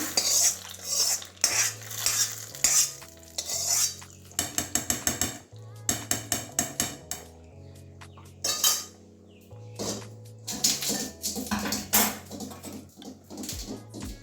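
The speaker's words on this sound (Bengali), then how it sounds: "একটু গোটা জিরে আর শুকনো লঙ্কা তেলের মধ্যে গরম করে দিয়ে দিচ্ছি" A metal spoon stirs whole cumin seeds and dried red chillies in hot oil in a pan while cooking prawn and bottle-gourd khichuri. Repeated clinks and scrapes come in irregular bursts over a steady tonal background hum.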